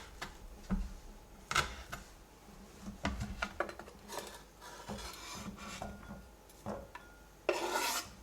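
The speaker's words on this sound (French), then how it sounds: "L'oignon, je vais juste l'émincer pour récupérer des demi-cercles comme ça d'oignons" A knife thinly slices an onion into half-moons on a cutting board for piperade, giving a series of close, crisp chopping strokes and rasping cuts at an irregular pace, fairly quiet overall.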